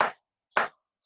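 Knife chopping food on a cutting board, two distinct sharp chops about half a second apart, close and clear, then the start of a third.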